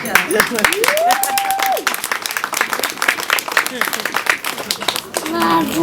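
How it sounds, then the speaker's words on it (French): Guests at a religious wedding ceremony burst into applause for the couple, lively clapping mixed with cheering voices and a high ululating call, fairly close and loud. "On applaudit pour ça quand même."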